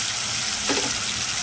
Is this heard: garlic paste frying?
yes